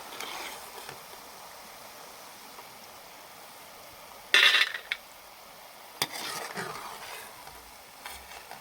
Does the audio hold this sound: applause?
no